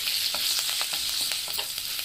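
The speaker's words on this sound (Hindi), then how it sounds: "भूनने के बाद हम इसमें हींग डाल लेंगे। हींग डालने के बाद में अच्छे से भून लेंगे" Curry leaves and asafoetida sizzle in hot oil for a tomato chutney tadka, a steady close crackle with small popping bursts throughout and no voices.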